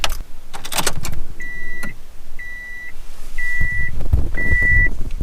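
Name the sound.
key turned in ignition of turbo Subaru Impreza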